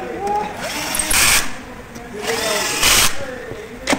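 A power screwdriver drives a screw to fasten a pivot onto a bare metal plate from an I2-G2 platform, with two short whirring bursts standing out against faint background noise.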